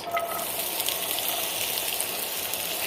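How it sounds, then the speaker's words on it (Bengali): Chopped onion, garlic and green chili fry in a little hot oil in a pan, giving a steady, even sizzle throughout with no talking. "এখন আমি এটাকে হালকা করে একটু ভেজে নেব লাল লাল করে পেঁয়াজটা কিন্তু একটু নাড়াচাড়া দিয়ে ভাজতে ভাজতে"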